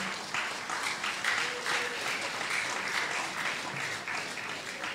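Church audience clapping steadily in a big room during a Redeemed Christian Church of God gathering, a dense even patter of many hands lasting the whole stretch with no voices over it.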